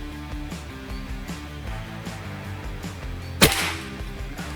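A single sharp crack from a Sampoerna Gun full-CNC 500cc air rifle fired during an accuracy test, a loud short snap with brief decay over a quiet, lightly humming background.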